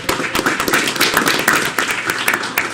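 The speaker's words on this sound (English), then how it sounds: "we'll give him a round of applause anyway." A small group claps at a city council meeting, close and fairly loud, the individual hand strikes distinct and irregular rather than a dense roar, continuing steadily for a few seconds.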